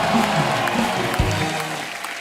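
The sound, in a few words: applause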